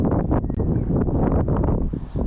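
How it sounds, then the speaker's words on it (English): Wind gusting across a fishing lake during a feeder fishing session, a loud, continuous low buffeting rumble that fills the whole stretch without a break, with no voices. "Concerned about this wind."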